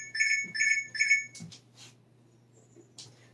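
An alarm chirps in three quick repeated beeps, fairly loud and close, then stops, leaving only faint clicks and rustling with a low background hum.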